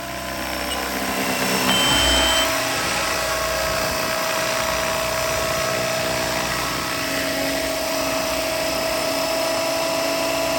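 A Bell 206 scale RC helicopter on a 550-size 6S electric setup with a 1200 kV motor whines steadily and close by as it lands. A high rotor drone holds throughout with a brief low thump near the start.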